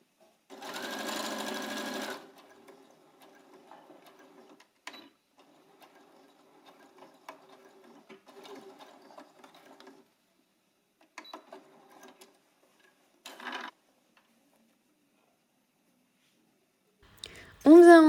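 Domestic sewing machine stitching a fabric seam 1 cm from the edge, a short whirring burst at the start and another near the end, separated by quiet stretches of faint handling clicks and fabric rustle.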